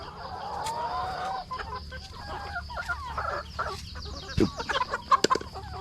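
Several chickens clucking nearby, with a few sharper squawks near the end over a low background hum.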